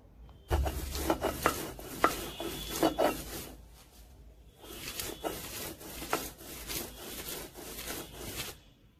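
Bean paste with shrimp being ground on a stone grinding slab, rough scraping and rubbing strokes in two bursts with a short pause between, close and moderately quiet.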